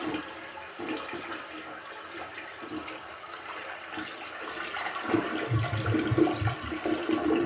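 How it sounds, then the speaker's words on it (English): A clogged toilet flushes after a pumice stone has been stuck in it, a rushing gurgle of water that swells and grows louder and more turbulent toward the end. "let's give it a flush"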